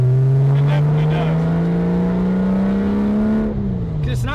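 A Porsche Boxster engine revs loud and close, its steady tone climbing slowly and then easing off near the end, with a rich, smooth rather than harsh character.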